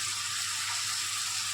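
Pumpkin and Malabar spinach curry frying in a pan gives a steady, even hiss, close and moderately quiet, with no stirring or talking.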